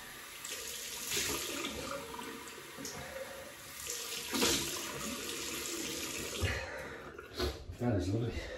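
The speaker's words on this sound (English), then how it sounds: "Cold water rinse." A tap runs cold water into a sink to rinse after a shave with a Soviet-era U.S.S.R. TEMP double-edge razor, a steady close splashing rush that lasts throughout, with short pauses and someone talking over it.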